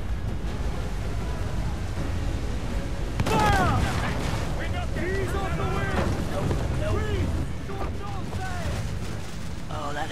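Heavy shot cannon fire from a ship in Assassin's Creed 4 Black Flag, a sudden deep boom followed by rumbling, splashing and wind-like battle noise, with a voice talking over it.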